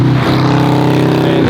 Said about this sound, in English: Sorry for the noise, I'm right next to a busy highway